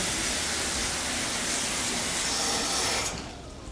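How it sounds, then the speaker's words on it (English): Tap water pours steadily from a home faucet into a sink and drains through the P-trap during a house inspection, a loud continuous broadband rush that stops abruptly near the end, leaving faint residual trickle. "I'll turn on their faucet, make sure the P-trap is flowing well."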